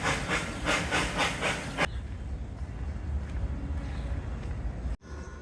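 The zoo train running at Omaha's Henry Doorly Zoo, heard as a loud, broadband hissing rumble that pulses rhythmically for the first two seconds, then continues as a steady, noisy roar.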